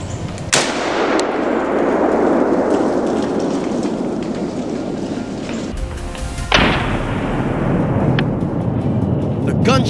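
A rifle shot fired at wild boar on a hunt in leaf-strewn woods: a sharp crack near the start and a second loud report midway, each trailing into a long rumbling echo over steady outdoor noise and faint speech.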